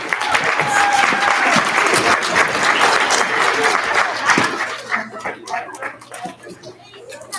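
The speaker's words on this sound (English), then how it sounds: "round of applause" A crowd applauds steadily, loud and dense, with children's voices mixed in, at an elementary school student recognition ceremony; the clapping thins out toward the end.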